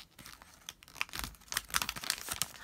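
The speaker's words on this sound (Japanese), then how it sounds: "はい、7番も内側に折ります。" Origami paper is folded inward along a mountain fold, giving close, crisp crinkles and soft creasing taps in short irregular bursts, with no talking.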